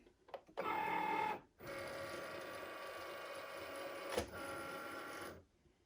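A Cricut Maker cutting machine whirs as its rollers draw in the cutting mat after the load button is pressed, a short motor burst followed by a steady, close mechanical hum lasting several seconds, with no talking.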